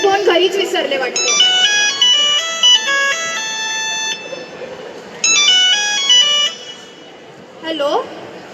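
A mobile phone left at home rings loudly with a repeating electronic melody in separate bursts, with short pauses between phrases. A brief voice comes at the end.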